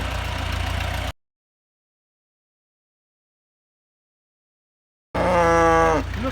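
A farm tractor engine rumbles at a manure-bladed barn during evening hay-bale feeding before snow, a short steady drone that cuts out; after a pause, nearby cattle answer with loud drawn-out moos.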